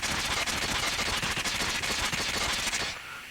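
Rapid, continuous automatic fire from an AS Val rifle during a recoil test in a ranked video game match, a dense loud burst of closely spaced shots that stops abruptly near the end.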